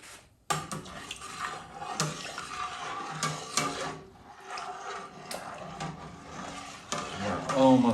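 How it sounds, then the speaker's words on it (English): Hops, including Kent Goldings, are stirred into a one-gallon honey ale brew pot, giving scraping and clanking strokes against metal over a wet, sloshing background, with a voice briefly near the end. "We're going to give this a good stir."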